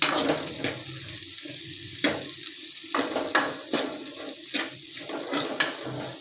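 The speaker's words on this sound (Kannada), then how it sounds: "ಚಿಕ್ಕಬಳ್ಳಾಪುರ ಮೆಣಸಿನಕಾಯಿ ಸ್ವಲ್ಪ ಫ್ರೈ ಮಾಡ್ಕೊಳ್ಳಿ ಹಾಕ್ಕೊಂಡು" Byadagi and Chikkaballapur dried red chillies fry in a pan, giving a steady close sizzle broken by repeated clinks and scrapes of stirring.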